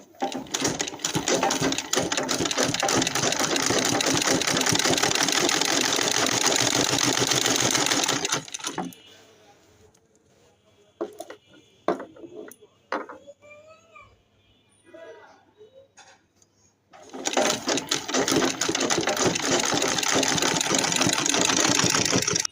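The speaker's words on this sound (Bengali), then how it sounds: "চলো সেলাই করা যাক" Sewing machine stitching lace onto a sleeve, running in a fast, loud whirring burst, stopping for a quiet stretch with scattered handling clicks, then whirring again.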